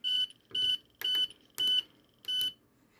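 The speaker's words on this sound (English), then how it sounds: "I press the push button, it means the door is open in the entry exit zone and alarm is triggered straight away" A home alarm system beeps after a push button standing in for an entry-exit door zone is pressed, giving five loud, evenly spaced beeps about half a second apart, each a steady high tone with gaps of near-silence between them.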